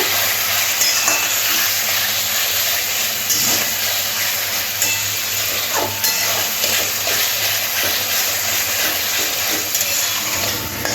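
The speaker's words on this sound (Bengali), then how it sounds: "এবার একটু জল দিয়ে দিচ্ছি, দিয়ে মশলাটাকে আরও ভালো করে কষে নেব" Spice masala for a Bengali-style chicken curry sautés in a pan with a little added water, producing a continuous close hiss and bubbling sizzle with occasional soft stirring scrapes, and no voices.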